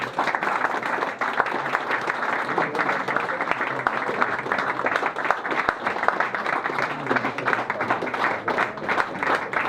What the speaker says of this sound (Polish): wielkie brawa dla Państwa i wielkie brawa dla Patryka